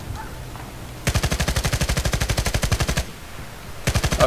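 MG36/QBB-95 light machine gun in Battlefield Play4Free, firing a long, loud, rapid full-auto burst of about two seconds, then a pause and a second short burst, close up with no talk.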